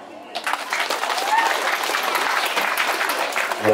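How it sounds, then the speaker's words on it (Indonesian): An audience at a memorial gathering in a Borneo village breaks into applause, a thick sustained wash of clapping that starts after a brief quiet moment, with a voice and some tonal sound briefly surfacing near the end. "Tepuk tangan."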